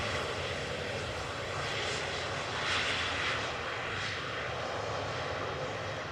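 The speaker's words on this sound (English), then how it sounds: "Got KLM flight 1422 coming in next for the Polderbaan, arrival from Birmingham, 737-800." A KLM Boeing 737-800 arrives on the Polderbaan runway at Amsterdam Schiphol Airport, its jet engines producing a steady, moderately distant roar that swells slightly midway and holds without speech.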